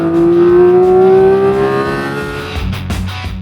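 Inside the cabin of a Porsche 718 Cayman GT4 RS, the engine roars loudly with a clear rising whine as it revs hard, then eases off and settles into a lower rumble as it shifts.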